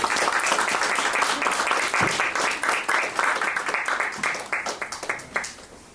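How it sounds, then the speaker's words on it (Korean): A church congregation at a Sunday service applauding to welcome a preacher, a dense burst of clapping from many hands that thins out and fades toward the end. "우리 나오실 때 박수로 환영하도록 하겠습니다"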